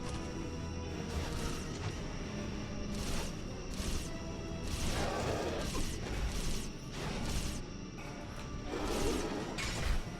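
Melee strikes in Star Trek Online smash through enemies as a series of heavy crashing whacks, with swishes in between, repeating at an uneven rhythm over a dense, steady game background.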